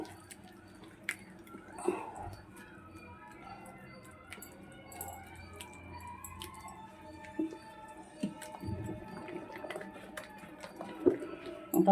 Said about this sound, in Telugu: పిండి కలిపేసి పక్కన పెట్టుకుంటే నా అంతది కదా